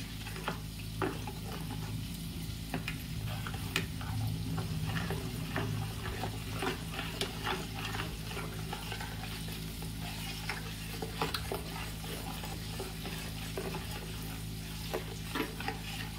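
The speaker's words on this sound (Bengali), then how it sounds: "এটাকে জাস্ট চামচ দিয়ে একটুখানি মিক্স করে নিতে হবে।" A spoon stirs water in a pan on a lowered gas flame, scraping and swishing in soft, repeated strokes over a constant low hum, with no talking.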